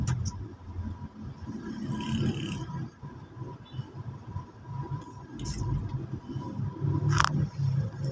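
Road traffic in a bumper-to-bumper jam, heard from a truck: a steady low engine rumble and idling hum that continues throughout, with a few brief sharp clicks and no talk.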